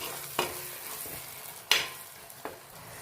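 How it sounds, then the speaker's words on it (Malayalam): Garlic, ginger and green chili are stirred and sautéed in a pan for a chicken dish. A soft, quiet sizzle is broken by three distinct scraping stirs of the spoon. "അവിടെ ഇട്ട് കൊടുത്ത് നല്ലതുപോലെ ഒന്ന് ഇളക്കി വഴറ്റിയെടുക്കാം."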